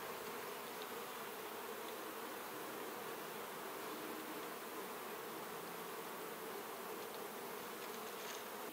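Bees buzz around the hinge area of a horizontal beehive during an inspection, a faint, continuous swarming hum that holds steady from start to finish with no voices.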